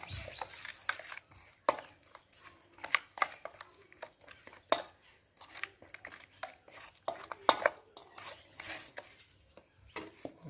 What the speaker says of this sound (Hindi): अब इसको अच्छी तरह मिक्स कर लेंगे।